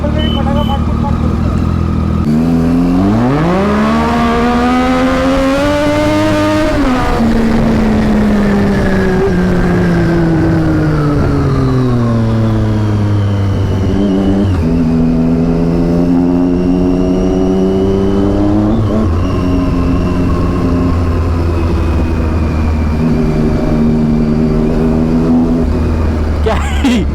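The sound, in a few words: superbike launch with loud engine revving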